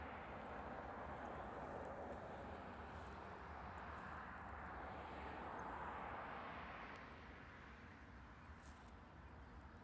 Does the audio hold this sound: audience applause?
no